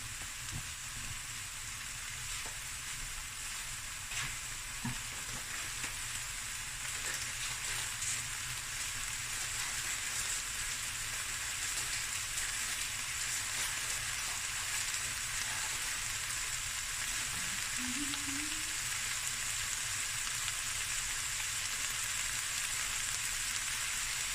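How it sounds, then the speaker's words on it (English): Clam and crab fried rice stir fries in a pan with a steady, even sizzle that holds at a constant hiss for the whole stretch, with occasional faint scrapes and clicks of stirring and no talking. "while this is stir frying"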